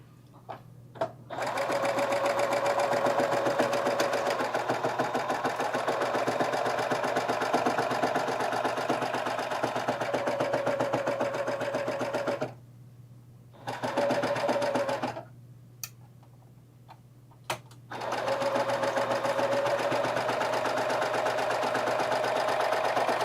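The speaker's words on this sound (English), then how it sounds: "let's do the other one, and then we can sew that seam together." A serger sewing machine sewing a seam on little boys' shorts runs in long, steady, loud whirring bursts, stops briefly a few times, then starts again.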